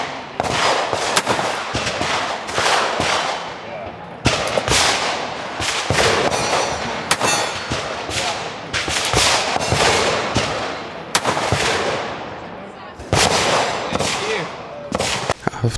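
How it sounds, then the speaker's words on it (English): Loud, sharp revolver gunshots from a Taurus handgun at an outdoor shooting event, with several close reports alongside other guns firing nearby in a dense, overlapping barrage. "I just had to shoot a revolver since I hadn't shot one today yet."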